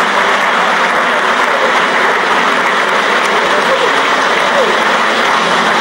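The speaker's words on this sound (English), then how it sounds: "Round of applause as we begin these important deliberations." A large audience at a trade and investment summit in Arusha keeps up a loud, continuous wash of applause, dense and unbroken from start to finish.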